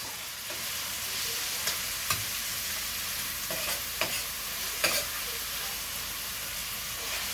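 Onions and celery sizzle steadily in a frying pan for braised beef, with a few sharp spoon scrapes and clicks cutting through the constant hiss; close and even, no voices.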